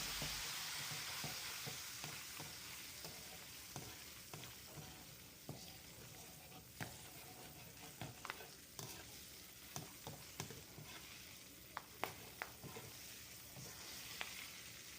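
Kaffir lime leaves fry in hot oil until crisp, a dense steady sizzle with scattered sharp crackles and pops from a spoon stirring through the pan, close and clear with no voices.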